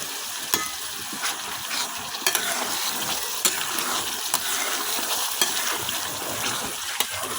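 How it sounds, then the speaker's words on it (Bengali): Ginger, garlic and onion paste fries in hot oil with bay leaves, cardamom and cinnamon, a constant close sizzle broken by occasional sharp spatters and stirring scrapes. "এখন আমি আদা রসুন পেঁয়াজ বাটাটা কিছুক্ষণ ভাজে নিলাম, কাঁচা গন্ধ না থাকা পর্যন্ত ভাজে নিলাম।"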